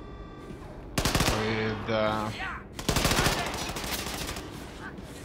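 Gunfire from the video game Wolfenstein II: The New Colossus, a couple of sharp bursts of shooting mixed with game sounds and a voice speaking briefly.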